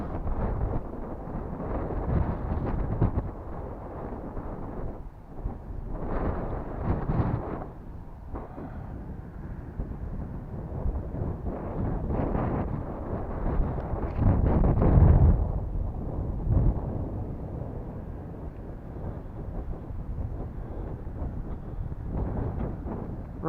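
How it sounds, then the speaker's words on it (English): Gusty wind sweeps across an open hillside, rising and falling in repeated low rumbling surges, strongest around the middle. "Oh, that is windy now."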